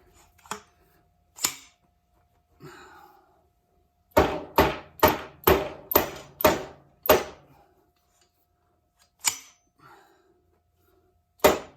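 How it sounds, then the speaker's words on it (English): Sharp metallic hammer strikes pounding a bushing into a 1986 Honda CR80 dirt bike fork, a few spaced blows, then a rapid run of about eight evenly paced hits, then two more, close and loud. "So you gotta kind of pound it back in, and then give it another hammer."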